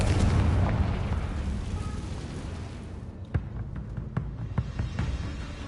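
A Confringo blasting curse explodes in Hogwarts Legacy: a loud, dense roaring blast fills the first three seconds, fading into scattered sharp cracks and pops of debris.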